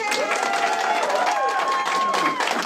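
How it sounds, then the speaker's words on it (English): Sparse, scattered applause from a convention panel audience, mixed with crowd murmur and a voice or two, steady and moderately close for a few seconds. "smattering of applause"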